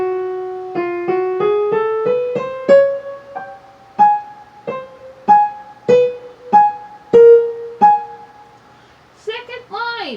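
A piano plays one line of Khachaturian's Waltz at a slow teaching pace, a sequence of distinct struck notes and chords with sustained decays, followed by a brief vocal sound at the end.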